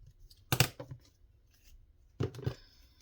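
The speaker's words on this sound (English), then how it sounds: "I'm just going to cut this a little bit smaller." Paper being trimmed smaller with scissors for a handmade pocket, two short bursts of close snipping separated by a quiet pause.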